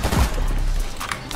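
A single sharp gunshot from a video game bursts out, loud and close, with a thudding low boom that decays quickly, followed by softer game ambience.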